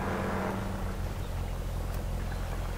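A BMW X5 M in the off-road driving game SpinTires drives out of water, giving a steady, loud low engine drone with a watery rush that thins early and holds unchanged to the end.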